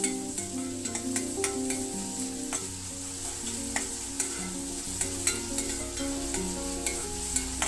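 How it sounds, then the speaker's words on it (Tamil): Chopped onions sautéing in oil in a kadai for chicken pasta: a steady close sizzle runs throughout, with sharp clicks and scrapes of a spoon stirring against the pan at irregular intervals. "இப்போ வெங்காயம் பார்த்திங்கன்னா ஒரு 2 நிமிஷம் வதக்கிக்கணும்."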